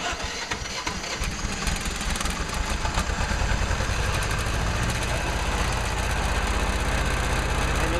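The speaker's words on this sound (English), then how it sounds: "and then the crank will start" Starter motor cranking a glow-plug engine under Arduino-controlled auto start, a loud, steady, rhythmic mechanical churn that builds within the first second and continues unbroken for the whole stretch.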